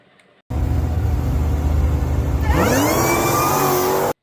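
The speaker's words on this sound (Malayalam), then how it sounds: "ഡ്രാഗ് റേസിൽ സ്റ്റാർട്ടിങ്ങിൽ തന്നെ ടേക്ക് ഓഫ് ചെയ്യുന്ന കാർ" A Dodge Challenger SRT Demon 170 launching off the line at a drag race, its engine roaring loud and close, then climbing in pitch as it accelerates hard and pulls away.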